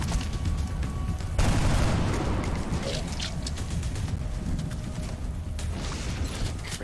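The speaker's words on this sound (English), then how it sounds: "I'm just gonna shoot." Rapid bursts of automatic gunfire and heavy booms rattle through a firefight in XCOM: Enemy Within, dense and loud, followed by continuing weapon clatter and mechanical effects.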